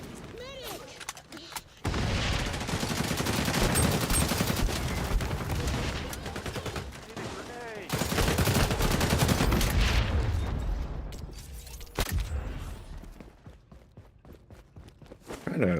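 AK rifle fire in the XDefiant shooter, dense bursts of shots in loud sustained stretches, with short pauses between volleys and other battlefield noise mixed in.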